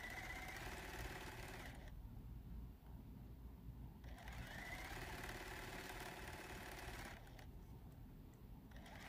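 A Juki sewing machine piecing quilt sections runs in steady bursts of fast, even needle chatter, stopping briefly between seams, close but quiet.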